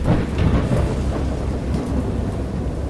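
Low thunder rumbles over steady, heavy rain, a continuous storm sound with no voices.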